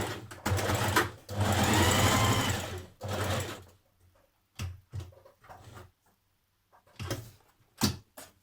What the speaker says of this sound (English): Sewing all the way around that outer curved edge on your belt pieces